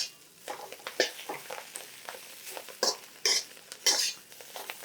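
Pea tips and garlic are stir-fried in a pan, with a spatula scraping and clattering against the metal in quick, irregular strokes over a faint background, close and clear, with no talking.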